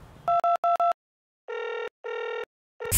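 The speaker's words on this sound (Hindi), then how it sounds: "अब ये फोन क्यों कर रहा है?" A mobile phone rings with a loud electronic tone, first in four quick bursts and then in two longer pulses, before a sharp noise cuts in at the end.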